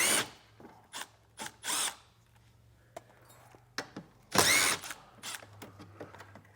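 Power drill backing out two 7mm hex-head screws while fitting a wiring kit on a 2021 Chevrolet, heard as several short, close whirring bursts separated by quiet pauses.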